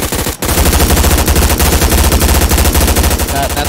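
Rapid automatic gunfire hits targets in a video game, loud and close, in dense repeated bursts that run almost without a break for the whole stretch.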